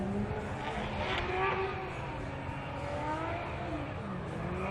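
The NV Auto Subaru BRZ drift car revs while warming up its tires, its engine note rising and falling at a distance under crowd and announcer commentary.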